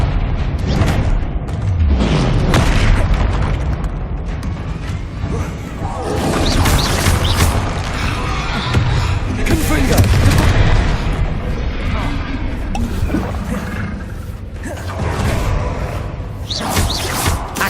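Confringo fire spells burst in repeated crashing booms in the video game Hogwarts Legacy, loud and near, mixed with other spell impacts and clashing combat effects, while a voice keeps calling out spell names.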